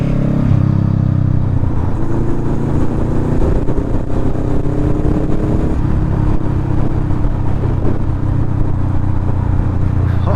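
Honda Rebel 500 motorcycle with a Vance & Hines exhaust burbling loudly and close, a deep continuous low-end rumble with shifting tone as the revs vary, no talking over it.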